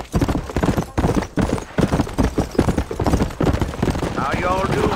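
Horse hooves galloping in Red Dead Redemption, a rapid, steady clip-clop rhythm up close, with background game sounds and a brief swelling tone near the end.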